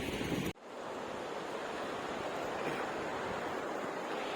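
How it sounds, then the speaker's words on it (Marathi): Steady roar of sea surf at Kelva beach, broad and constant with wind across the microphone, after a brief cut at the start; no voices. "हे बघा समुद्राच्या लाटा."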